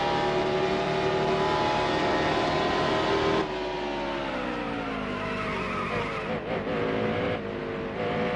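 A race car in the video game NASCAR Heat Evolution at Phoenix during practice, with its engine droning steadily and then dropping in pitch under braking as the tires squeal and skid. The car is loud and close, with no talk over it.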